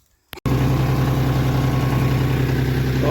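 A John Deere tractor engine idles close by, a steady low rhythmic diesel throb that starts abruptly after a brief silence and a short knock, then runs evenly without any voices.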